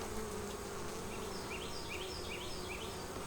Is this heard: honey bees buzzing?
yes